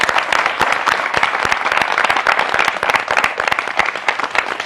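An audience at a women's panel event breaks into sustained applause, dense overlapping claps filling the room steadily throughout without any talk.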